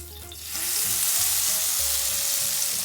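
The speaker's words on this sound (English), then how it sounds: "we're just gonna plop some of this in the hot oil. And you get up close so you can hear the sizzle" Loud, steady sizzling and crackling of latkes frying in hot oil, starting abruptly after a brief quiet moment and continuing close up.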